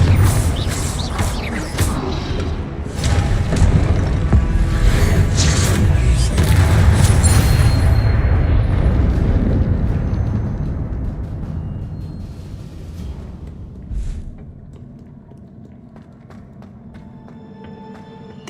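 Confringo fire curse exploding in Hogwarts Legacy, a loud rumbling blast with crackling debris that holds for several seconds and then slowly dies away into quiet, with a few small clicks near the end.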